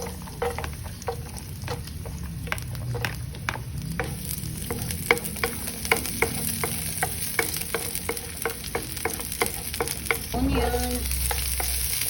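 Garlic sautés in a pan for mackerel stew, a continuous close sizzle with regular clinks and scrapes of a spoon stirring throughout.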